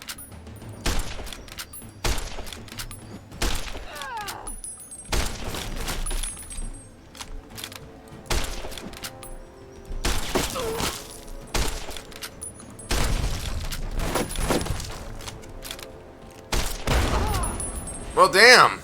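Rifle gunfire in the post-apocalyptic Wasteland video game, a series of sharp, heavy shots spaced irregularly with clattering mechanical handling noises between them, with a voice talking over parts of it.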